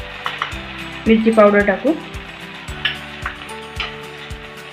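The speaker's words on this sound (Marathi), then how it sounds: "मसाला चांगला तेल सुटेपर्यंत चांगला परतून घ्यायचा." Misal masala fries in hot oil, a steady sizzle broken by rhythmic scraping stirs, while a voice speaks over it during a home misal pav preparation.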